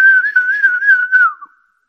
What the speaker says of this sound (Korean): 그는 휘파람을 불었다.